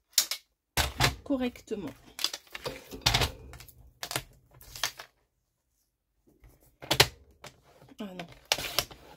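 Scissors make a run of short, crisp snips while cutting from the top, close to the microphone and spread across the clip with a gap in the middle. A person speaks French between the cuts.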